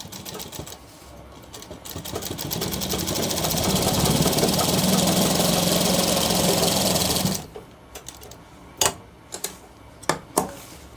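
A sewing machine stitches a shirt cuff, running steadily and loudly at close range for about six seconds, then stopping abruptly, followed by a few sharp isolated clicks and taps.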